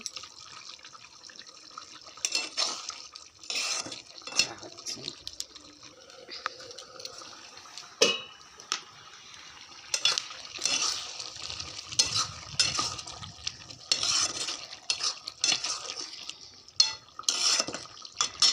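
Chicken cooking in a pot on a home stove, with a soft ongoing sizzle broken by frequent clatter of utensils, pot knocks and stirring, plus occasional running water.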